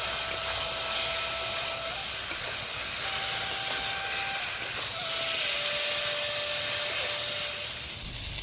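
Spices, green chilli paste and ingredients frying in a pan for a fish curry, a loud continuous hiss and sizzle with a faint steady tone running underneath, close and unbroken.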